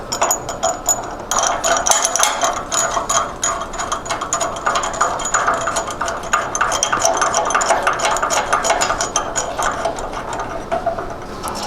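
Wrenches tighten bolts on a bandsaw riser block, giving a steady, fast ratcheting click that goes on continuously at close range without pause.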